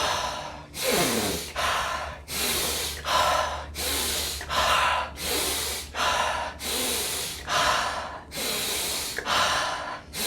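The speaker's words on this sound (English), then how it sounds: "pulling in air as hard as you can without stressing yourself, but just very powerful breaths" Forceful breaths drawn hard through the nose in a steady rhythm, about a dozen loud, close snorting inhalations with short gaps between them, and no talking.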